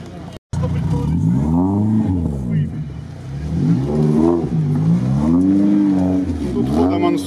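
An off-road vehicle engine revs repeatedly as it drives a competition course, rising and falling in pitch in loud close surges, with people talking over it.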